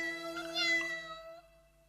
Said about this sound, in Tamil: என்னப்பா அது, இத்தனை பூனைங்களா?